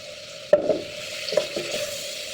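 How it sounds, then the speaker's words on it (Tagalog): Chicken gizzard adobo with soy sauce, oyster sauce and bay leaf, stirred in a pan: a few utensil scrapes over a constant close sizzle. "Halo-haloin natin ulit."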